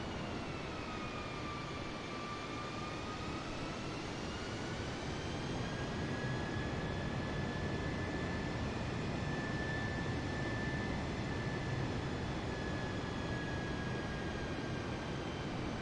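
A light aircraft engine in Microsoft Flight Simulator 2020 drones steadily with the throttle eased back, a constant broadband roar with a faint whining tone drifting slightly lower, no voices.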